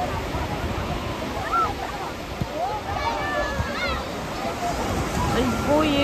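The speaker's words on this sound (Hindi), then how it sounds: "ये देखो गहरा समुंदर।" Deep sea surf rolls steadily at Colva beach in South Goa, a continuous wash of breaking waves and water noise with people talking and calling in the background.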